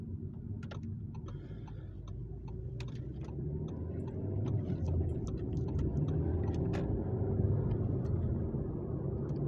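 A VW Golf VII four-cylinder engine drives along in a steady, low rumbling hum with road and cabin noise, rising slightly partway through, with faint ticking clicks scattered over it and no speech.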